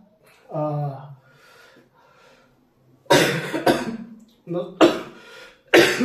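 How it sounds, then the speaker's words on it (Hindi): A few harsh coughs burst out close by, separated by short pauses, with a quieter throat-clearing sound at the start. "खांसी थोड़ा सा हो गया है"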